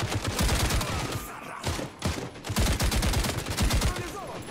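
Rapid bursts of gunfire in the shooter game Caliber, loud and close, with a few automatic volleys separated by brief pauses.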